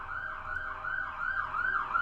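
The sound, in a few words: siren passing outside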